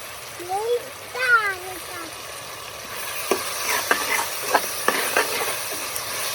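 Biryani masala of ground ginger, garlic and shallots stirred in a cooking pot, sizzling and frying with scraping strokes under a woman's speech, in a village kitchen.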